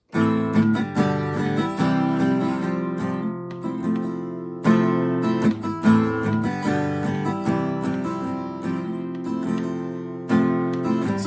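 Acoustic guitar strumming a rhythmic chord pattern, bright and close, with regular down-up strokes and chord changes.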